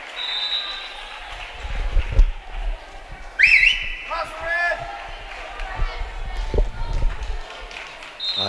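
A referee's whistle at a high school volleyball game between Smith Center and Central Plains gives a short sharp blast amid gym noise and shoe squeaks, with a commentator talking over the crowd.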